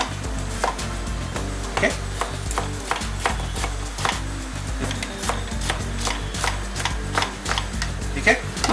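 A knife chops tomatoes on a board for a salad-style topping on chola tikki, with steady, close, crisp chops repeating in a quick, regular rhythm and a brief spoken word partway through.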